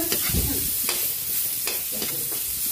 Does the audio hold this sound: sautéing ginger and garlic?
yes